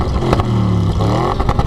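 A car engine revs loudly up close, its pitch rising and falling in a deep, throaty growl with some mechanical rattle.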